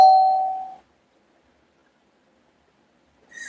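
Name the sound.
phone alert tone sounding like a doorbell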